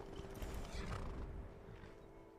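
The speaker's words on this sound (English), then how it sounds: "Come here, horsey." A horse in Skyrim, running the Wabbajack modlist, gives a short whinny along with some clip-clop of hooves. The sound is brief and faint.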